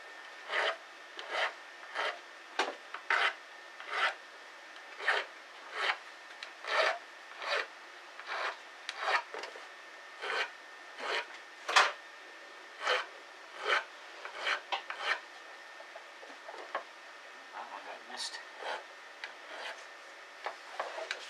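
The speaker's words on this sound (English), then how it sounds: "Now the stone I'm using is actually an oil stone" An oil stone rubbing along guitar fret ends in a steady series of short, close, dry rasping strokes, roughly one every second, with no talking.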